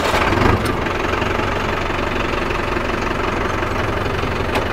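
A Mahindra Arjun Novo 605 4x4 DI turbo diesel tractor of 57 hp with a modified diesel pump runs in second high gear, a loud steady mid-low engine drone with a slight knock and no change in pitch.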